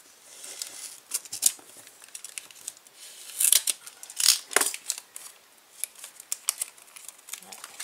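Crinkling plastic and paper being torn open from a scrapbooking advent calendar packet holding a stencil, with soft irregular rustles and a few sharper crackles close by.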